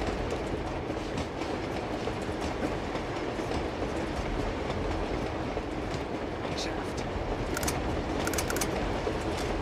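A train rolling along its tracks in the video game Uncharted 2, a continuous loud clattering rumble with rhythmic clicks and occasional sharper metallic ticks, running steadily throughout under someone talking.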